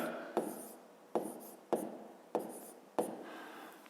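Handwriting a decimal number: five distinct scratchy pen strokes on paper, evenly spaced and close, each a sharp tap that trails off, with no talking.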